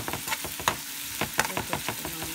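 Finely chopped onions fry in oil in a pan for chicken samosa filling, with a continuous close sizzle broken by repeated stirring scrapes and clicks, and no talk.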